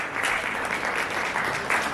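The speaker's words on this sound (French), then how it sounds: "Je voudrais que vous faisiez un tonnerre d'applaudissements pour ce monsieur." A press-conference audience for a music album release claps steadily in a dense, sustained burst of applause, loud and continuous throughout.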